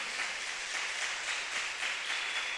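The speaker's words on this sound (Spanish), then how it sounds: "Vamos, denle un aplauso a Dios." Church congregation applause, a steady wash of many hands clapping, fairly faint and distant with no voices over it.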